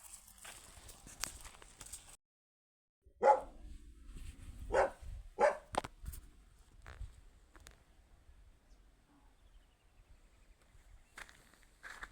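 A dog outside a house gives a few sharp barks in the middle stretch, moderately close, with quiet outdoor ambience and light shuffling before and after.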